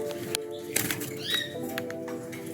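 Small birds flutter and chirp nearby, with quick wing flaps and brief high calls scattered through a short stretch.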